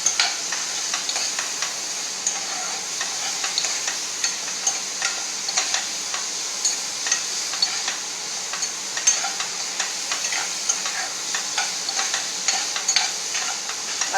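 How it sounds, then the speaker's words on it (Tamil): Tomatoes and spices sauté in a pan for an egg kulambu, giving a steady, close sizzle and frying crackle with occasional stirring scrapes throughout, no voices. "தக்காளி போட்டு எல்லாம் கொஞ்சம் நேரம், கொஞ்சம் லைட்டாக இந்த வாடை போகிறது வரைக்கும் லைட்டாக வதக்கிட்டு"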